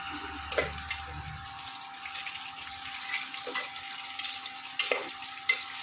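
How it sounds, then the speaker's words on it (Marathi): Pavta beans fry and are stirred in a khichdi pan, making a quiet, steady sizzle with a few sharp clinks and scrapes of the spoon scattered through it. "आपला हा जो पावटा आहे तो सगळ्यात शेवटी आपण आत्ता टाकूयात त्याच्यामध्ये म्हणजे तो पण छान फ्राय होईल"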